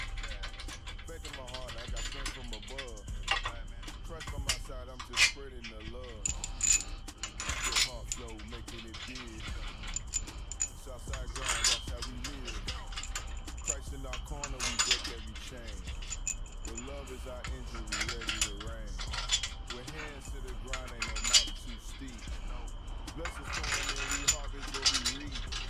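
New engine bolts and hardware for a 408 stroker build jangle and clink in repeated bursts of metallic rattling, close by, under someone talking.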